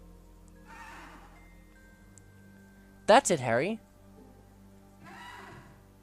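A hippogriff named Buckbeak in a Harry Potter Prisoner of Azkaban game gives one loud, horse-like whinny mid-clip, with a voice speaking briefly before and after against a quiet background.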